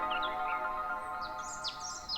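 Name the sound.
freed mynah birds chirping as they fly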